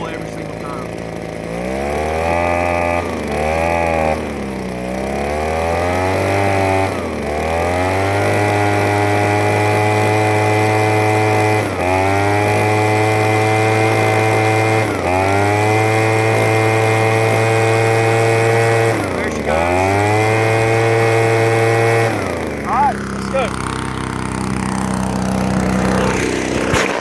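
Proyama handheld gas leaf blower starting and revving in repeated bursts, its two-stroke engine rising and falling in pitch before settling into a loud steady whine, up close, then cutting off near the end.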